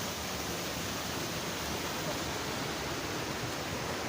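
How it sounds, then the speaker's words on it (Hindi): A waterfall in hilly terrain heard from a distance, a constant broadband rushing roar at even, moderate level with no breaks. "पानी झरना है ये, आप देख सकते हैं यहाँ से। ये है वाटरफॉल।"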